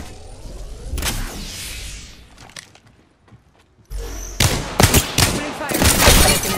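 Gunfire in Apex Legends: a loud opening burst, a quieter stretch, then dense rapid automatic fire and sharp shot cracks building to a near, heavy fusillade.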